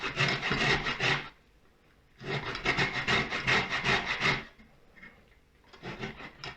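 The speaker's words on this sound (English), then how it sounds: "we need to grate the lemon zest" Lemon zest is grated by hand for a vegan lemon cake loaf. Close, steady rasping comes in three bursts separated by short pauses, with no voices.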